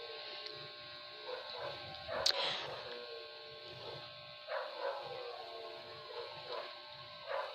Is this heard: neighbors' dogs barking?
yes